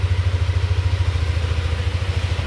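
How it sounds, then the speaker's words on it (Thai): A Yamaha Aerox scooter engine runs steadily after starting, with a low, even rhythmic chug and slight mechanical clatter, close and loud, after a new battery cured a code 12 fault. "ไม่มีไฟเครื่องโชว์ สตาร์ทปกติเลย"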